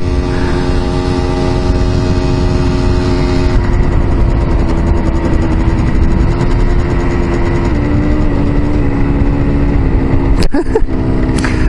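A tuned Honda MT 125 motorcycle engine, likely running a 140 kit, drones steadily up close with a strong buzzing hum; the pitch shifts slightly partway through and a brief sharp clatter comes near the end.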